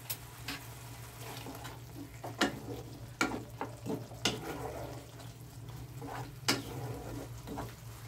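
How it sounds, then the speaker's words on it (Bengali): A spice paste with ginger and a little water fries in a pan with a soft, low sizzle, punctuated by several sharp scrapes and knocks of a spatula stirring it, with nobody speaking. "আমি মিনিট 2-3 একটু কষিয়ে নিলাম।"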